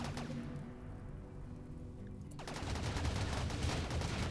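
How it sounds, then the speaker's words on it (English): Automated turrets firing at a centipede in the video game Rimworld, a dense rapid rattle of gunfire that swells louder in the second half, continuous and without talk. "these turrets are going to have to take down that centipede at some point"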